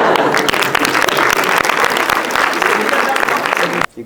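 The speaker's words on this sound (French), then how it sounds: "Et des applaudissements, je pense." An audience at a film premiere applauds in a dense, loud, sustained wash of clapping that continues steadily for several seconds before stopping abruptly.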